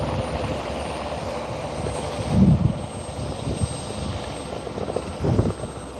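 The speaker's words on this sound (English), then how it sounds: "we also do have this aircraft on the taxi for departure" An aircraft engine runs at Barton Aerodrome as a plane taxis for departure, giving a steady mid-distance drone with a few brief swells and a thin high whine above it.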